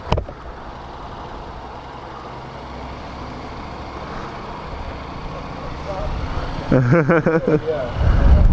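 A 2016 Honda NM4 motorcycle ridden in automatic drive mode, with a steady engine hum and wind rush under the rider, and the engine note rising and growing louder toward the end.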